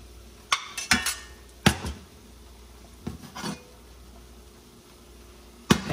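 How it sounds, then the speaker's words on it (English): A metal spoon scooping brown butter into a pan, producing a few sharp clinks and taps spread irregularly across a quiet kitchen background. "I'm just gonna take a spoon, get this in the pan"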